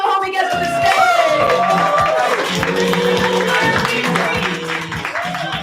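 An open mic poetry audience bursts into sustained clapping and cheering, with whoops and voices mixed into the crowd noise, steady and loud throughout before easing slightly at the end.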